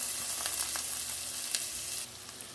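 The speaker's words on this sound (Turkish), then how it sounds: "2 çorba kaşığı tereyağı veya margarin erittim. 1 tane büyük boy kuru soğan ve 3 diş sarımsak." A large onion and three garlic cloves sautéing in melted butter or margarine, a steady close sizzle with a few brief crackles that eases off slightly near the end.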